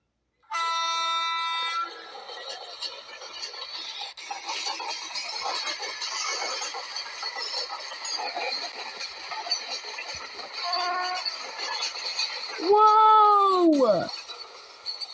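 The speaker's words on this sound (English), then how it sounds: "There's another train coming." Animated 3D train approaching: a horn tone opens, rumbling rolling noise builds steadily, then a loud falling tonal screech near the end as it arrives.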